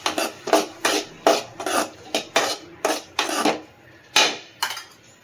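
A spatula scrapes and stirs chopped tomatoes in a pan with fried onions for prawn thokku, making a steady run of rasping strokes about twice a second, close and fairly loud, with no talk.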